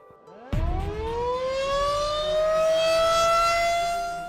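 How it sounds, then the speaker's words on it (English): A tornado warning siren winds up after a sharp thump, its wailing tone rising and holding steady, loud and droning. "the sirens went off"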